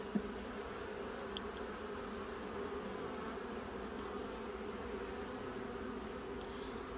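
Honey bees hum in a dense, steady drone during a hive inspection, close and continuous with no talking.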